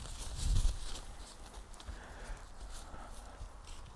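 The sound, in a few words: horse hooves stepping as it is asked to back up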